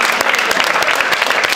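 Football players of Wisła Płock clapping together in the locker room, a dense burst of close, loud applause from many hands sustained throughout.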